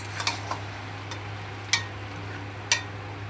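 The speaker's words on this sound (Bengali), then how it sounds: "ভালো করে এবার হলুদ নুন দিয়ে মাংসটাকে নেড়ে নেবো।" Chicken is stirred with turmeric and salt in a pan while it releases its own juices. A few faint, sparse scrapes and clicks of a utensil sit over a steady low hum, with no talking.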